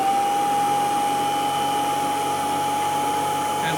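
A Royal 880 vacuum cleaner runs steadily at close range with a smooth, even motor tone and a thin constant whine, holding at a consistent loudness throughout.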